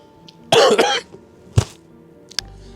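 A few harsh coughs, one strong burst followed by two shorter, weaker coughs, close and alone in a quiet setting, on a bitterly cold winter night in Ladakh.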